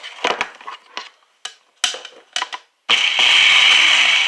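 A few short clattering bursts, then a blender motor kicks on and roars steadily at close range, loud and continuous, while making instant milk pudding.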